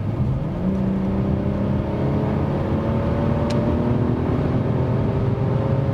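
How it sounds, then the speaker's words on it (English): A 2021 Mercedes E450 Cabriolet in Sport mode accelerates hard from 100 km/h, its engine drone steadily rising in pitch under continuous road and wind roar heard from inside the car. "what about the acceleration? And that's this time not Sport Plus, but Sport mode from 100 kilometers an hour."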